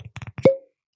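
A cork pulls from a whiskey bottle: a few quick light taps and clicks, then one sharp, close pop with a brief ringing tail, followed by silence.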